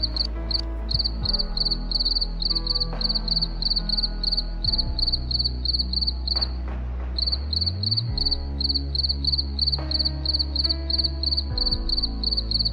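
Crickets at a cricket-breeding farm chirp in a steady, rapid pulsing rhythm, loud and close, over a low continuous hum, with only a brief break in the chirping midway.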